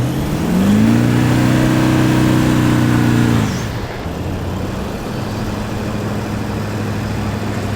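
A 4WD parked on soft sand with a throttle controller set to high sensitivity, its engine revving hard and loud for about three seconds before the revs drop away to a steady low rumble.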